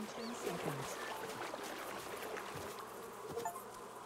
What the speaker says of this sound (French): Échapper aux abeilles.